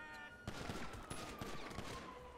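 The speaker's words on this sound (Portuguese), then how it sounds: "A polícia tá atirando em mim, velho." Police gunfire in the video game GTA 5, a rapid volley of repeated shots that carries on steadily at close range, with no talk over it.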